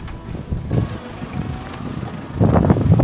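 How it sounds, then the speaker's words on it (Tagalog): Strong gusts buffet the microphone at a hilltop viewpoint in Batanes, a steady low rumble that swells louder toward the end. "Mahangin nga."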